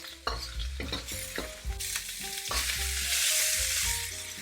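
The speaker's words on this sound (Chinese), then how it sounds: "这时候再翻面煎一下。" Minced pork pan-fries after being flipped, a loud rising sizzle mixed with knocks and scrapes from a spatula, accompanied by tonal background music.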